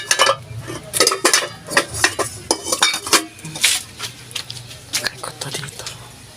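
Metal cooking pots clatter and clank as they are handled and moved around in a home kitchen, with a run of irregular, close knocks and scrapes and no talking.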